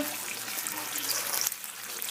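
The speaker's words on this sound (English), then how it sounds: "And now it is just bubbling away in the pan." A slice of pork coated in a sweet and savory mesquite rub fries in a pan for breakfast, giving a steady, close, hissing sizzle and bubble with no talking.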